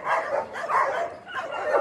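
Many stray dogs at a mountain shelter bark and yip together in a dense, overlapping chorus that carries on steadily without pause, with a faint whimpering mixed into the din.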